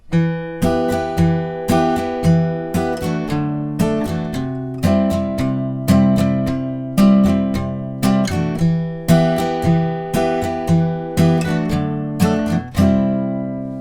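Steady rhythmic guitar strumming through the chorus chord changes of a song, bright strokes repeating in a regular pattern, close and clear with no voices.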